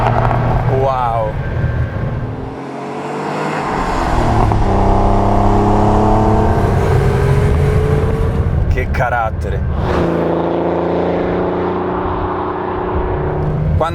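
Porsche 911 Turbo 3.3 (930) accelerating hard with pronounced turbo lag, a loud close engine roar climbing through gears with brief pauses at the shifts, and someone speaking briefly over it.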